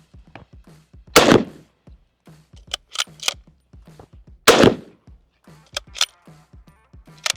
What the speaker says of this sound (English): That is loud because of that short barrel.